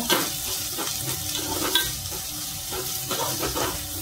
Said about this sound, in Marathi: थोडासा कांदा पण टाकलाय, चांगला तडतडला पाहिजे